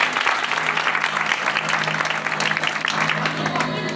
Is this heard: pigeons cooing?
no